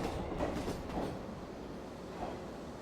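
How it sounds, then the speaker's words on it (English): A local train on the Ise Railway arriving at Tsu Station, Japan, rumbles steadily, with rolling wheel noise and faint rhythmic clatter, close by and continuous throughout. "The local train bound for Kamayama arrives at Tsu Station."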